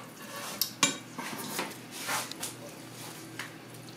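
A spatula scraping chopped onion into a cooking dish for pigeon pie, a run of close metallic scrapes and clinks of utensils against the dish, uneven in rhythm.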